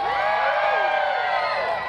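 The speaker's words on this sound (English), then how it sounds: "If you're happy, let me hear you scream." A concert crowd at an outdoor lagoon music series screams and cheers loudly and continuously, a dense wall of many high voices that fades slightly near the end.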